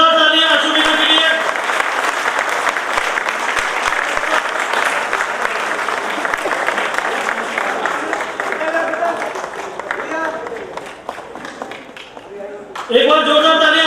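A crowd at a Dr. Ambedkar Jayanti awards event claps loudly and continuously for a medal winner, a thick sustained applause; a voice speaks briefly at the start and music or talk returns at the end.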